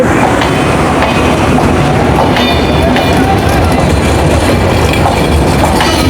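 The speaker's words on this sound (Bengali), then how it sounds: "আমরা আপনাদেরকে টঙ্গি রেল স্টেশন থেকে দেখাচ্ছি সিলেটের ট্রেন চলে যাচ্ছে" A Sylhet-bound train departs Tongi railway station with a loud, close, continuous rumble and rhythmic clatter of wheels on rails, with faint crowd voices mixed in.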